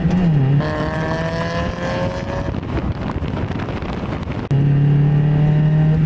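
A Mazda Miata with an aftermarket exhaust blips and downshifts, its engine note rising sharply then settling into a loud, steady drone close to the microphone, with wind buffeting throughout.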